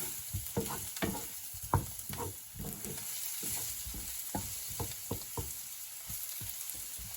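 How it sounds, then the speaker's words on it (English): Mushrooms sizzle in a pan over very high heat in a garlic and onion marinade, a steady frying hiss broken by repeated close scrapes and stirs of the pan. "I want my mushrooms to sizzle and cook into this beautiful"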